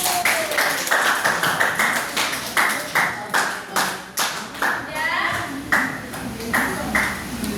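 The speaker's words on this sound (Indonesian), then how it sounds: "Tepuk tangan untuk Ratu" A classroom of students applauds a classmate with loud, close clapping in a quick, regular rhythm of sharp, evenly spaced beats, and faint voices come through underneath.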